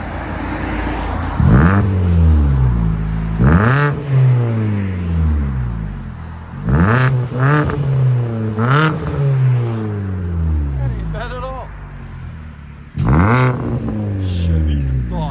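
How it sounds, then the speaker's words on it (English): A 2012 Chevy Sonic four-cylinder with a manual gearbox, Vibrant resonators and a muffler delete revs repeatedly, each loud blip rising and falling in sharp bursts up close, with short idle gaps between revs. "I like the vibrant resonators now. They always sound so good on these."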